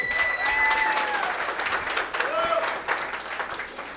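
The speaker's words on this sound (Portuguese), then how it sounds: "foi a Nath que fez uma salva de palmas" A round of applause rises at a roadside campfire gathering in Canoas, a steady wash of clapping that holds for several seconds with voices mixed in underneath.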